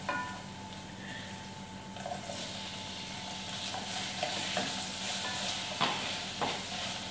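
Butter beans stirred with onion and garlic in a frying pan, a steady close sizzle under scraping spoon strokes and occasional soft clacks against the pan, no voices.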